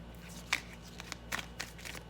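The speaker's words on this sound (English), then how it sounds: "Let me just have one more shuffle here." Tarot cards being shuffled by hand, a quick close run of irregular soft riffling snaps and papery flicks with no talking.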